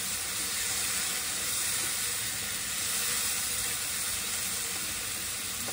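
Tomatoes stir-frying in a pan for a tomato, onion and egg soup, a loud, dense, unbroken sizzle that holds steady and close throughout.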